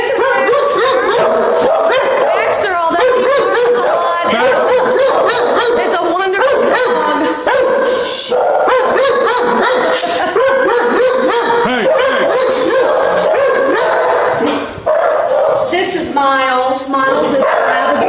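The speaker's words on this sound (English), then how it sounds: "Baxter, although he barks a lot" Baxter, a shelter dog at a humane society, barks and yips in quick, repeated bursts with some whimpering, close by and mixed with people talking throughout.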